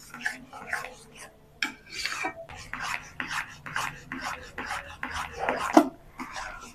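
A spoon stirs semolina pudding as it boils in a pot, giving repeated rasping scrapes in an uneven rhythm. Each stroke is close and moderately loud.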